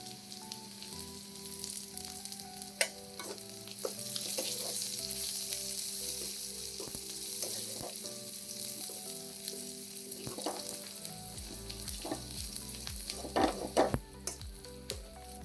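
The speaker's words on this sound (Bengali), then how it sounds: "এগুলোকে আমরা বাদামি কালার করে ভেজে নিব এখন এর মধ্যে পাঁচ ফোড়ন আর গোটা জিরাটা দিয়ে দিব" Panch phoron and whole cumin seeds fry in oil for a mixed vegetable dish, a steady close sizzle and crackle with occasional stirring scrapes and clinks that grow busier toward the end; no talking.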